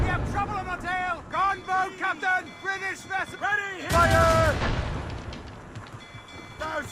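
Cannon volley from a sailing warship in Assassin's Creed Rogue, fired on a British gunboat: crew voices shout commands, then a single heavy blast erupts and rolls off into a fading rumble.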